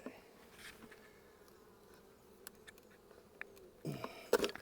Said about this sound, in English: That one has plenty of bees in it.